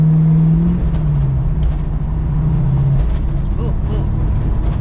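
A 1968 Mustang Fastback with a manual gearbox accelerates, its engine drone rising and falling in pitch through the gears, loud and close inside the car, with voices speaking over it.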